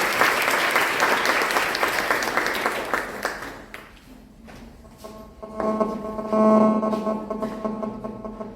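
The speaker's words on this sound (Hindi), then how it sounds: "जोरदार तालियों से अपना स्वागत करेंगे।" At a safe city cyber crime awareness program, an audience claps loudly to welcome a speaker, the applause fading out midway, followed by shuffling, a brief microphone hum and some scattered handling noises.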